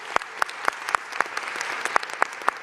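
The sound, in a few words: audience applause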